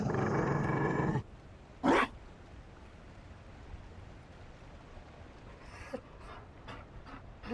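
In a fantasy video game, a Mabari war dog gives a loud burst of panting, then a short growl, followed by quieter, scattered panting breaths and soft snuffles.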